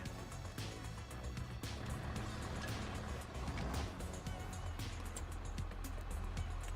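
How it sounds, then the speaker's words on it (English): A tractor engine in the Farming Simulator 25 video game, on the Waseca County map, drones in a steady low rumble throughout, with faint clicks and clatter on top. "I guess I gotta grab the tractor and bring it back over."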